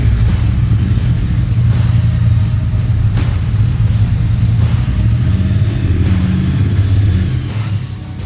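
Triumph 2021 Bonneville motorcycles riding onto a stage at a launch event, a loud steady engine rumble with low throbbing exhaust that holds throughout and eases slightly at the end.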